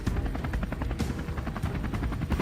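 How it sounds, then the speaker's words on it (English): Helicopters flying overhead during an aerial wild boar hunt, a loud, steady rotor thudding with rapid regular blade chop throughout, no voices. "Helicopters roared overhead, splitting up to scour the terrain for targets."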